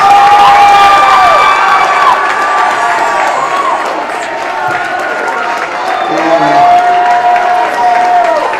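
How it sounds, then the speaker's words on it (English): A high school Mr. Colonel pageant audience cheers, whoops and applauds loudly and continuously, with shouting voices on top and a few voices rising out of the crowd noise throughout. "I would like y'all to give an amazing round of applause for my amazing girlfriend for coming up here with me"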